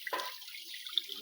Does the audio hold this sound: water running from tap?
yes